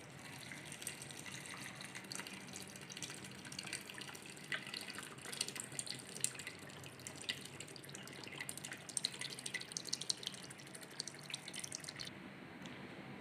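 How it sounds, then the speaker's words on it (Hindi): Water running steadily into a cooking pot for a chicken yakhni stock with onion, garlic and salt, a continuous splashing trickle throughout, fairly close, with no talk. "1 लीटर पानी डालेंगे।"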